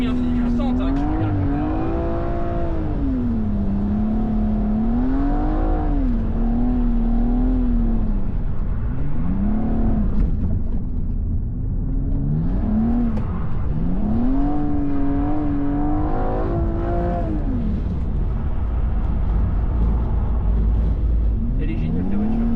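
A car's engine revs up and down repeatedly during brake-initiated drifting, its pitch sweeping in long rising and falling arcs over a steady rumble, with people talking over it.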